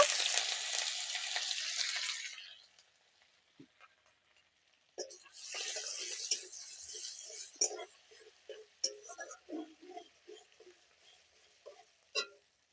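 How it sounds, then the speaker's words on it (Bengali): Garlic sizzles in hot oil in a pan while chili chicken is being cooked. A strong, steady hiss breaks off, then returns in shorter crackling bursts with scattered stirring taps. "প্রথমেই রসুনটা দিয়ে ভেজে নেব"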